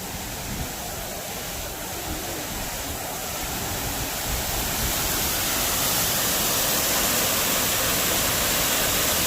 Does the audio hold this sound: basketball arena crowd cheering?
no